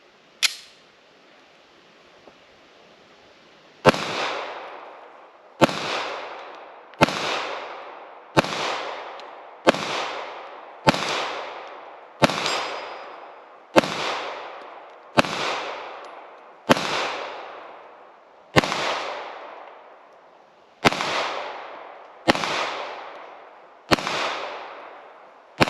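Pistol shots from an FN Reflex ring out at an outdoor range, one isolated shot then a long series of sharp, loud reports spaced about a second apart, each with a ringing decay.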